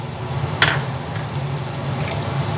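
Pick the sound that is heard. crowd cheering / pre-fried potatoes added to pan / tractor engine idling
pre-fried potatoes added to pan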